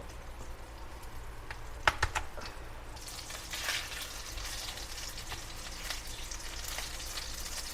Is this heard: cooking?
yes